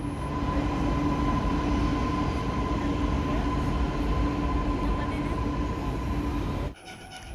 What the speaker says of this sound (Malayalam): ടിക്കറ്റൊക്കെ എടുത്ത് നമ്മളിതാ മെട്രോയിൽ പോകാൻ വേണ്ടി പ്ലാറ്റ്ഫോമിൽ